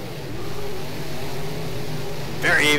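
Street stock cars racing wheel to wheel at the East Bay oval in rFactor: a close, steady engine drone, with a sharper rising rev near the end.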